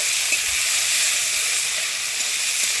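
Onion, garlic, green chilli and tomato frying together in hot oil during village cooking give a steady, close sizzle and hiss that runs unbroken throughout, with no voices.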